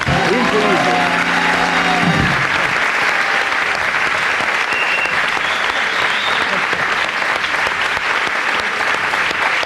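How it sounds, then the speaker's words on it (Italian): A studio audience at an Italian television comedy broadcast applauds loudly and continuously for nearly ten seconds, with a brief tonal musical sting fading out at the start. "Guarda che applauso."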